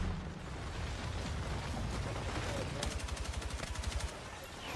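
AK rifle gunfire in the Battlefield 6 video game, heard as a rapid automatic burst of evenly spaced shots after a stretch of dense, rumbling battle noise.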